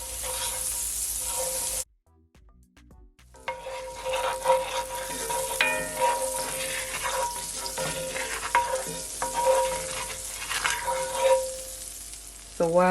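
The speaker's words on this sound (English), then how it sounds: "So while my butter is melting" Unsalted butter melts and sizzles in a pot left unwashed from cooking chicken, a steady close frying crackle that starts after a brief silent gap and continues with small pops, no voice.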